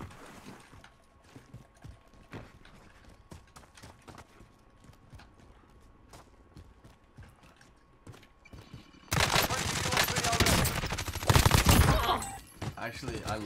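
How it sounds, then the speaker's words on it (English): Rapid gunshots in Call of Duty Warzone's zombie royale mode, scattered sharp cracks for about nine seconds, then a dense, loud burst of fire and explosive noise to the end. "I'm just firing shots everywhere."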